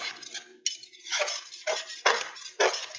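Metal spatula scraping a pan of caramelized onions during deglazing with a splash of water, a few sharp scrapes and clinks in quick succession, close and moderately loud with no talking.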